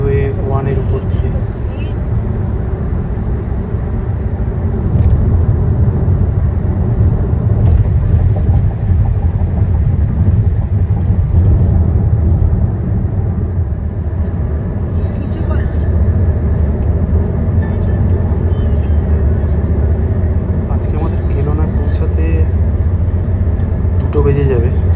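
A car cruises along National Highway 1 near Kelowna, British Columbia, a loud, continuous low road and engine rumble from inside the cabin with steady tyre noise throughout and a voice talking over it.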